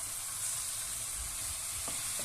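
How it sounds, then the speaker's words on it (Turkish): Chopped carrot and zucchini sautéing in a pan for a vegetable soup, giving a steady close hiss of frying with a few faint stirring scrapes near the end. "Bir dakika kadar da kabağa kavuracağım."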